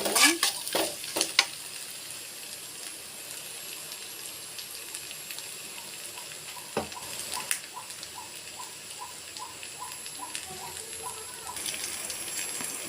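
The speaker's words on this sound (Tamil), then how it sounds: "நல்லா வெங்காயம் பொன்னிறமாக வர வரைக்கும் நல்லா வணங்கணும் எண்ணெயிலேயே." Onions frying in oil in a pan and being stirred until golden, a steady sizzle with scraping stir strokes, louder bursts early on and a softer hiss throughout, no talk.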